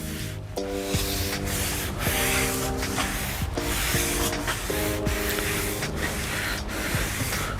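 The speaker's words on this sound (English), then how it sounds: "we're gonna take our damped, not wet rag and wipe off any of the immediate left behind sawdust" A damp rag wipes sawdust off a garage door being prepped for deck stain, making rhythmic rubbing strokes in repeated back-and-forth passes, close and moderately loud with no talking.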